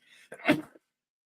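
A single sharp sneeze, close and abrupt, preceded by a brief inhale, then silence.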